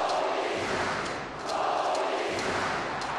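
A wrestling event crowd roars continuously and loudly, a dense wall of cheering with a brief dip before swelling back up.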